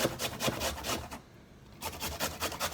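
Fresh ginger rasped on a kitchen grater, a steady series of rhythmic scraping strokes, close and clear, with a short pause midway before the strokes resume.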